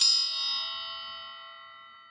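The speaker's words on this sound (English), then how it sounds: "I'm going to go ahead and ring the bell for additional good juju" A small bell rung for good luck during a tarot reading gives a single bright ding that rings out and fades slowly over about two seconds, alone in a quiet room.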